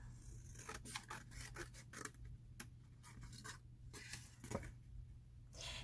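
Scissors snip through paper along a score line on a die-cut square box, a series of close, crisp cuts and rustles with pauses between them, heard alone without talk.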